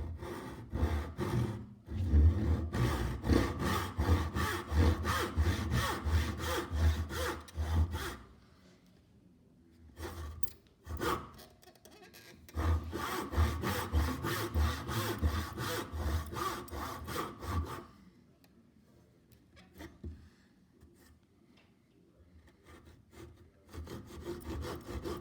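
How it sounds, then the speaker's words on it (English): Hand saw cutting wood for a bridle joint, with close rhythmic rasping strokes in long bursts separated by short pauses and no talk. "So I only want to cut down until I meet the line there that marks the width."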